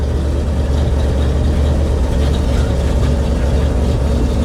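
A 1966 Chevrolet C60 dump truck idles at close range, a loud, steady, low engine rumble with no change in pace, and no one talks.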